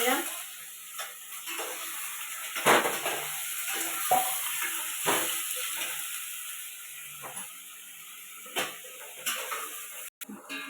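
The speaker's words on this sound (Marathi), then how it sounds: "कांदा टमाटर लाल झाले आता टाकून दिले" Chopped onion and tomato fry in a pan for biryani, a soft steady sizzle broken by scraping stirs and occasional clinks, heard close with no talking.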